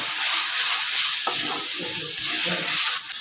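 Peas fry in a spiced masala with coriander powder, a loud, close, steady sizzle with a hissing wash that holds throughout and shifts slightly as they are stirred.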